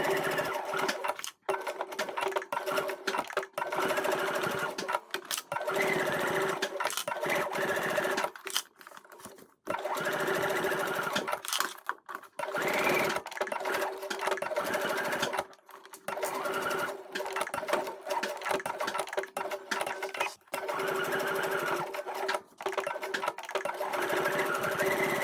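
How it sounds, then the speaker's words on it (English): A sewing machine runs two rows of stitching along a bag seam, a steady close whirring chatter that continues for long stretches and stops briefly a few times between runs. "I'm going to do 2 rows of stitching, a second one, 1/16 of an inch, 1 or 2 millimeters inside the seam allowance"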